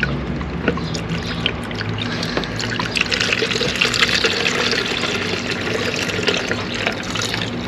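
Coolant drains from a Magnum's coolant tank through a hose into a container, a steady splashing, trickling pour heard close up with small gurgles and no speech.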